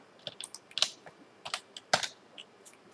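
Key clicks from a computer keyboard while typing a command in Rhino 6 modeling software, a quick irregular run of light taps with a few louder strokes, close and clear with no talk.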